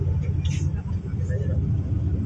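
A tour bus travelling from Madinah to Mecca idles with a low, steady engine rumble as passengers prepare to get off, while a person talks over it.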